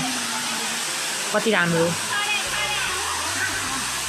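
A waterfall inside a cave makes a steady, rushing wash of water noise that fills the space throughout. A person speaks briefly over it.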